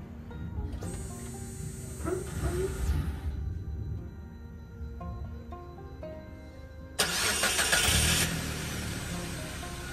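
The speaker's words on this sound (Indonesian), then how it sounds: "Oke, kita start engine saja." A Suzuki Ertiga engine cranks and fires up after a fuel filter replacement, a sudden loud burst near the end that settles into a steady running hum after quieter workshop background.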